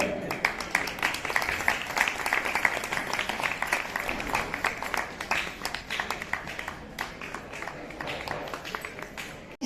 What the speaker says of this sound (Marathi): विनंती करते जोरदार टाळ्या झाल्या पाहिजे